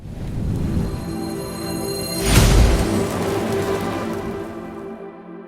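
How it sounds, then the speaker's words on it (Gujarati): Rain falling in a steady patter, close and moderately loud, swelling into a heavier burst midway before easing back to a continuous soft drumming. "વરસાદ ધીમે ધીમે આવે ધીમે ધીમે ધીમે ધીમે મોટા બને છે"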